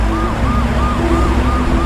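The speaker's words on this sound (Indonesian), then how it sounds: "masuk ke ambulan dan pergi melewati TKP Jang Sun-do" An ambulance siren wails in a film scene, a loud close two-tone whooping cycle repeating several times over a steady rumbling background.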